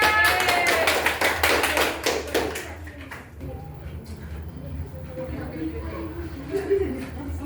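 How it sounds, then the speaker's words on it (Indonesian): Students in an elementary science classroom applaud a student group with a burst of quick, close clapping. It thins out after about three seconds into quieter room noise, with voices talking around it. "Berikan tepuk tangannya."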